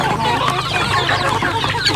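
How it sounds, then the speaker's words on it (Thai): Many chickens at a rural Thai home cluck and squawk together. The calls are close, busy and overlapping, with no talking. "ไก่ที่บ้านไก่เยอะมาก"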